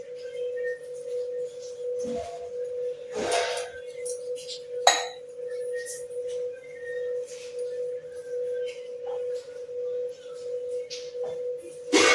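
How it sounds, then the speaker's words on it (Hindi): A drinking glass cuts rounds from thinly rolled dough for chandrakala, a sweet, giving a couple of sharp, light clinks of the glass rim against the rolling surface over a steady background hum. "अब एकटा गिलास से काटि लेबै।"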